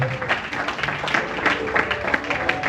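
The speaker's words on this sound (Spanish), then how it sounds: "denle un aplauso al Señor" Applause from a church congregation during worship, with dense rapid clapping and voices mixed into the sound.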